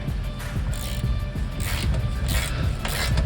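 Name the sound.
hand tool removing a bolt on a Honda Accord suspension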